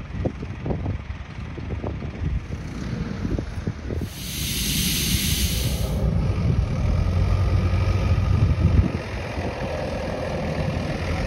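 A camper van makes its first drive across sand dunes on the Black Sea coast in Turkey, with an engine rumble and rushing wind noise building and holding steady, plus a burst of hiss partway through.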